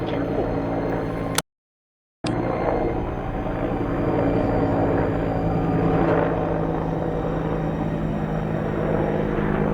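A helicopter flies in the Friday the 13th video game, a steady loud rotor drone that runs almost the whole time, broken once by a brief dropout into silence.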